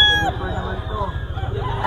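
A bullstag, a young gamecock, crows briefly at the Bocaue pet market during the Christmas season, its short call rising over a bustle of nearby fowl and market noise, with voices murmuring in the background.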